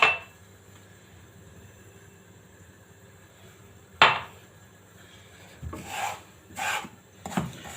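Semolina is stirred in a pan for a Turkish semolina dessert. A quiet background is broken by a sharp knock, then a few short scraping strokes across the pan.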